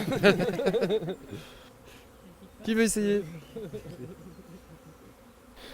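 Honeybees buzzing around a beehive, a close, pulsing buzz under French conversation, rising and falling with louder bursts early and again midway.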